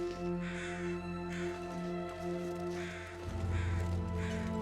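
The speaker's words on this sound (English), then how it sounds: "We have some birds." Crows cawing in the wilderness of the survival game The Long Dark, several harsh repeated calls at a moderate distance over a steady ambient drone and a low wind rumble, with no talking.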